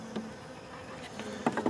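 A tiny honeybee swarm buzzes softly around a nucleus box hung on a tree, a faint steady hum broken by a few brief louder passes of bees close by.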